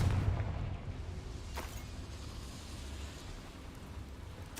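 A Confringo fire blast spell in Hogwarts Legacy goes off as a loud explosive boom at the start, then a rumbling roar that slowly fades, with a brief sharp burst near the end.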